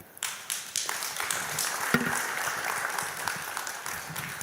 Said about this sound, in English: I believe it deserves more a heartier clap than that.